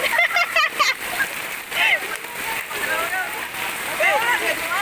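Heavy rain with splashing as children play outside in the downpour, a dense steady wash of water noise with bursts of excited voices and shouts over it.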